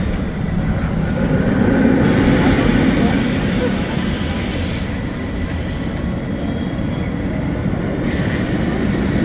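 Penguin Trek roller coaster trains run test laps at SeaWorld Orlando, making a sustained rushing rumble of wheels on track that swells and fades as trains pass, heard from nearby over a broad, steady roar.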